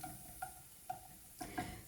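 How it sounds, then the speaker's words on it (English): Garlic frying in a pan gives a quiet, steady sizzle, broken by a few light scraping taps from stirring spaced about half a second apart. No one speaks. "So I'm frying my garlic right now."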